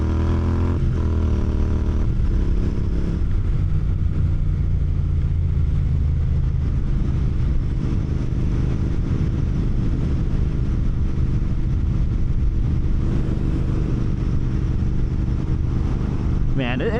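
A Royal Enfield GT 650 motorcycle rides through a Chicago winter, its engine a loud, steady low rumble with wind noise throughout as a rider talks over it.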